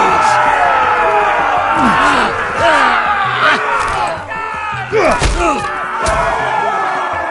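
An arena crowd in a Game of Thrones video game roars and jeers in a steady wall of voices, broken by heavy thuds and clanks, while loud shouted voices carry over the top.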